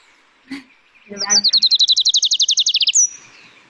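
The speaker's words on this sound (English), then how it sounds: "There it is, the Adelaide Warbler. It has a very loud call." A loud, close Adelaide's warbler delivers a rapid series of about twenty repeated high trilled notes, ending in a sharp upward flourish after a couple of short calls, in Puerto Rico's San Juan Bay Estuary.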